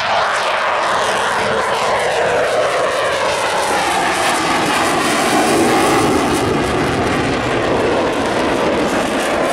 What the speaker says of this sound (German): Der A400M soll in der Zukunft die Flotte der Transall ablösen.